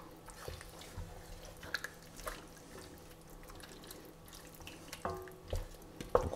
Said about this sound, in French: on va compléter avec de l'eau.